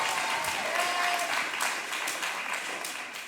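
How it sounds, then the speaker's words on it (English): A middle school talent show audience applauds a young performer, a steady, fairly quiet wash of clapping that holds evenly from start to end with no voices over it. "round of applause for how she's progressed over these 3 years"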